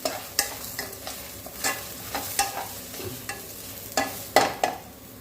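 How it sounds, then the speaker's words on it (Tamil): Spices dry-roasting in a pan over a low flame, a soft continuous rustle with a string of sharp scraping stirs, close and alone with no talk. "சிம்மில் வச்சு நல்லா வறுத்துக்கணும்"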